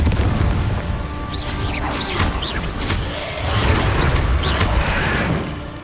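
Confringo blasting spells burst in Hogwarts Legacy, a run of loud booming impacts mixed with whooshing spell swishes and bright zaps, repeating every second or so in a busy close-up combat mix.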